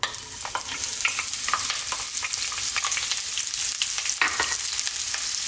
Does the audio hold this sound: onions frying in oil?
yes